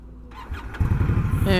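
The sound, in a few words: Indian Scout Rogue motorcycle engine starting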